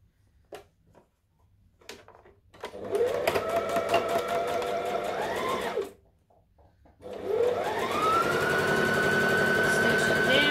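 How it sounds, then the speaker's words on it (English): A sewing machine stitches a garment seam in two long runs at normal stitch length, the motor whirring up to speed and winding down, separated by a short pause with small handling knocks. "I'm going to stitch this and then overlock it"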